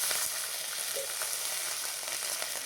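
Whole garam masala with ginger and cumin paste sizzling in hot oil left from frying potatoes, a steady close crackle filling the pan with faint stirring, no voices.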